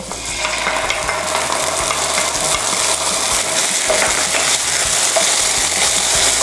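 Garlic and shiitake mushrooms stir-fry in a hot pan, with a steady sizzle broken by scraping and clinking from a utensil stirring against the metal throughout.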